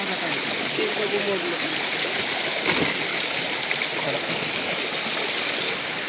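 Steady rushing of a Sahyadri hill stream, close and continuous, with a faint voice briefly underneath.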